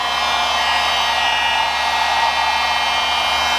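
A heat gun warms tint film on a Genesis Coupe fog light, giving a steady, close, loud airy whoosh with a faint motor hum underneath, unbroken and alone for the whole stretch.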